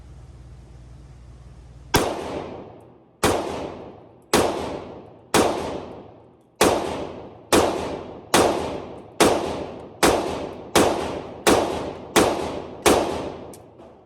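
An MPA Defender 5.7 pistol fires eleven sharp, loud shots, spaced about a second apart after a brief quiet start, each crack ringing out with a decaying tail.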